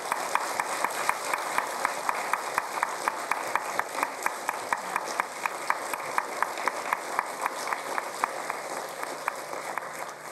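Steady applause from the audience at a Gyeonggi Province Liberation Day ceremony, honoring a patriot's grandson, with dense clapping and sharp individual claps standing out, continuous throughout at moderate distance.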